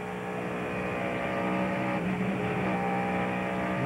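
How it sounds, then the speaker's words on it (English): Onboard audio of a 1998 NASCAR stock car at the Pepsi 400: a continuous loud engine roar that dips briefly as the driver lifts slightly off the throttle, then surges back to full power. "You heard Kenny lift just barely to see if he was going to be involved, and he knew he wasn't, so he stood on the gas"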